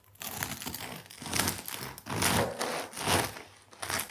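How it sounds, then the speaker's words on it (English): A knife saws through the crisp crust of a hot, freshly baked sourdough loaf, giving crackling, crunchy bursts in several strokes, close and clear with no speech. "Let's cut it while it's hot, shall we?"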